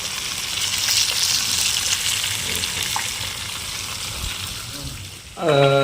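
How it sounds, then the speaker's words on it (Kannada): Bombay duck, maral and chilapi fish fry crisp in hot oil, a dense, steady sizzle up close, with voices talking faintly in the background and a clatter near the end. "ಬರೋಬರ ಆಗಿ ಫ್ರೈ ಕಡಕ್ ಫ್ರೈ ಮಾಡ್ತಾ ಇದ್ದೀವಿ"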